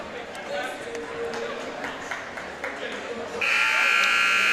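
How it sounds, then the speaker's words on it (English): A girls varsity basketball championship game buzzer blares, a loud, sustained electronic tone cutting in near the end after a stretch of gym crowd murmur and squeaks, with voices talking underneath. "the buzzer sounds"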